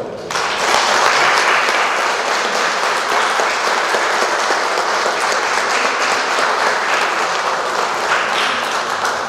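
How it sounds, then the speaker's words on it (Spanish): Wedding guests at a Catholic marriage ceremony in Buenos Aires break into loud, sustained applause, a dense, even clatter of many hands that starts abruptly and holds steady to the end. "Les damos un fuerte aplauso."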